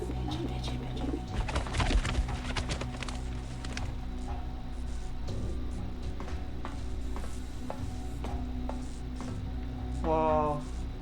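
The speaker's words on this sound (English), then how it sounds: "Did I hear pigeons?" Pigeons coo in a game world: a soft warbling coo rises near the end, after a busy stretch of clatter and movement sounds over a steady ambient hum.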